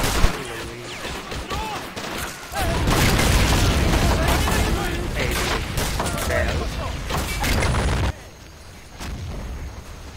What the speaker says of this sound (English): maybe it's time to use some of my artillery